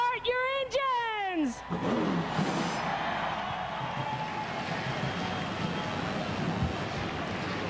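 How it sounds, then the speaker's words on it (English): At the 1999 BellSouth Mobility 320 at Nashville Speedway, a drawn-out announcer's voice gives way to many race car engines firing up, building into a dense, steady roar of idling and revving engines that continues to the end. "Gentlemen, start your engines!"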